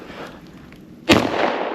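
A single sharp gunshot during a squirrel hunt in a snowstorm, a sudden loud crack from a quiet outdoor background followed by a lingering rumble and wind.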